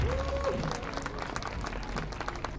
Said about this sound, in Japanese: そんなダブスラ2人、もう一度拍手をお願いします。